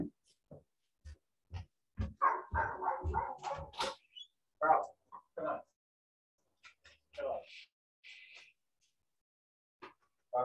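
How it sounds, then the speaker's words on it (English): A dog barks repeatedly at home after a mailman's visit, sharp close barks in bursts with short whimpers and yips between, mixed with a person speaking. "My dog is barking."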